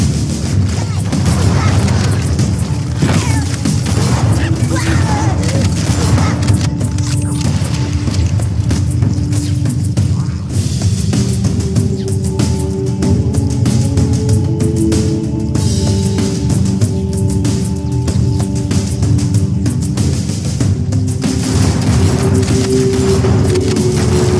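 Frag grenade blasts in the shooter video game Halo CE: heavy booms and crashes stack up over a constant loud din of battle, with rapid gunfire and other game noise mixed in.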